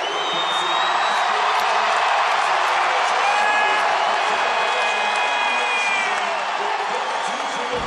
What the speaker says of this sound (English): This sellout crowd in Denver rising to its feet as Westbrook's accomplishment is acknowledged by the public address announcer.